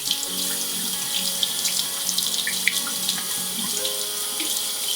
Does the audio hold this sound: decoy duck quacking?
no